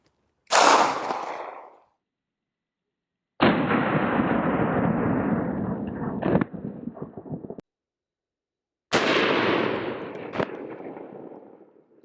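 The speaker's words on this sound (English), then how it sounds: "First load up is gonna be some Minuteman munitions, 115 grain." A Glock 19 Mariner pistol fires 115 grain Minuteman rounds at body armor outdoors, with three loud, separate shots spaced a few seconds apart, each followed by a lingering echo and a sharp secondary crack.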